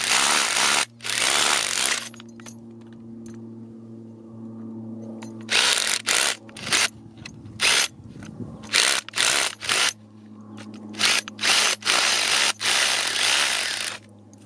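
A rock drill roars in bursts inside a cave, a long run at first, then a series of short start-stop pulses with brief quiet gaps between them, drilling a bolt hole.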